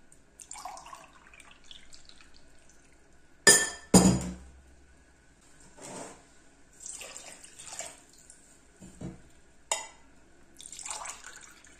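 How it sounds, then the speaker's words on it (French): Water is poured in several separate pours for kalb el louz, with clinks of a glass in between and quiet splashing, close and otherwise calm. "Ensuite, vous ajoutez 4 verres d'eau."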